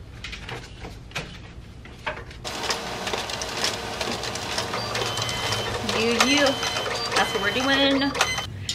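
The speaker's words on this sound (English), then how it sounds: "I didn't think it'd be that interesting for you guys to see paper coming out of a printer." A printer runs steadily as paper orders feed out, a continuous mechanical whir with short rising motor chirps near the end, moderately loud and close.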